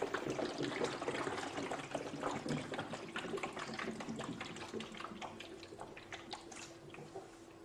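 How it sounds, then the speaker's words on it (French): Water poured into the hollow square compartments of a triangle-shaped model, a steady splashing trickle with a constant tone running throughout, close and moderately loud with no talking. "On remplit d'eau les carrés des plus petits côtés du triangle."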